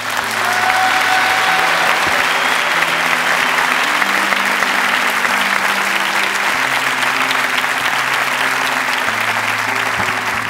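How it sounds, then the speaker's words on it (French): Loud, sustained audience applause welcoming a mentalist onto a stage, many hands clapping densely for the full length over steady background music, with a faint crowd murmur and no one speaking. "Merci d'applaudir très fort Fabien Olicard"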